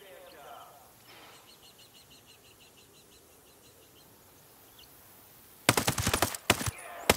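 Sharp bursts of automatic rifle fire in the tactical shooter Ghost Recon Breakpoint, loud and close, crackling in quick clusters near the end after a long stretch of quiet ambience with faint bird chirps.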